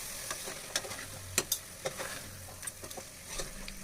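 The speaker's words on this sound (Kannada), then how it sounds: "ಆವಾಗಲೇ ಬೇಯಿಸಿಟ್ಟಿದ್ದಂತಹ ಮಟನ್ ಏನಿತ್ತು ಮಟನನ್ನು ಸೇರಿಸಿ ಚೆನ್ನಾಗಿ ಕಲಿಸ್ಕೊಳ್ತಾ ಇದ್ದೀನಿ" Cooked mutton is stirred into sizzling masala with mint for biryani, with a quiet continuous frying hiss broken by sharp scraping clinks of a spoon against the pan.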